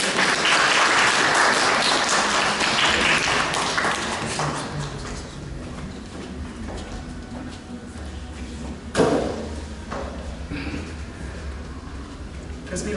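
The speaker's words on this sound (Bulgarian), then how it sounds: "Вашите аплодисменти, моля." Applause from an audience at an award ceremony, loud and dense at first, then thinning into scattered claps with a few thumps and shuffles as it dies down.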